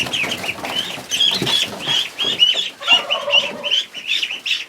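Young ducklings nearly three weeks old, a larger duck breed, being picked up in a chicken moat area by an orchard, giving repeated close peeping calls with brief rustling and flapping.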